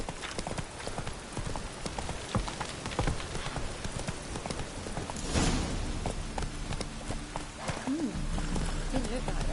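Roach, the horse in The Witcher 3, clip-clops along at a steady rhythm of hoofbeats over rain pattering on the ground, with a voice briefly heard.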